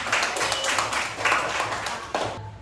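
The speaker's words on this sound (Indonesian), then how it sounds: "tepuk tangan untuk dia jawaban" Classroom applause rewarding a student's answer in a lesson, a brisk, steady round of many hands clapping together that cuts off abruptly after a couple of seconds.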